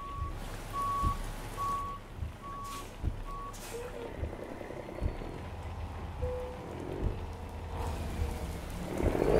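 A truck in American Truck Simulator backs up with a steady series of evenly spaced reversing beeps, heard over rain and a low engine rumble, with brief speech around it.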